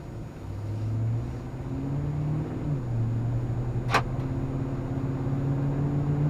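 A 2001 Chevy Silverado 1500 pickup truck on the road, heard from inside as a steady engine drone with rising and shifting tones, plus one brief sharp click partway through.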